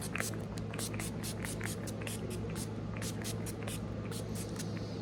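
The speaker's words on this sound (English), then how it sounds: "we're going to spray it with some fixing spray" Makeup fixing spray misted onto a face in repeated quick pumps, a rhythmic series of soft hissing spritzes, close and fairly quiet over low background hum.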